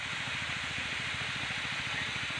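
A new power sprayer blasts insecticide and fungicide spray, a loud constant hiss over a rapid rhythmic engine pulse, unbroken throughout.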